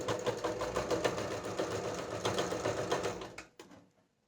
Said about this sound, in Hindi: अब हम यहाँ से अपनी सिलाई मशीन को रखेंगे इधर